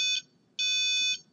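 Two electronic beeps from a Robotis CM-510 robot controller buzzer, a short tone then a longer steady one after a brief gap, clear and close with no talk.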